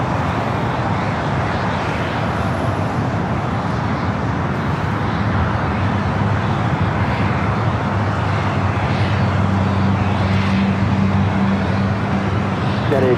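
British Airways airliner at LAX accelerating down runway 25 right, a loud sustained broadband jet roar, distant and steady throughout, with a faint tonal whine rising near the end.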